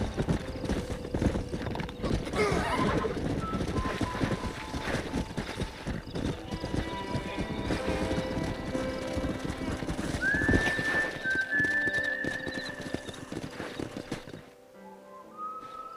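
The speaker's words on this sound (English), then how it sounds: "We got some fine horses." Horses' hooves clip-clop steadily at a gallop in the video game Red Dead Redemption, with a whinny and a whistle-like tone partway through, all fairly loud and continuous.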